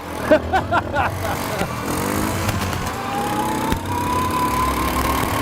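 A UTV engine runs steadily while warming up outdoors, a continuous mid-pitched drone with a few revs early on and a slowly rising tone, loud and close throughout.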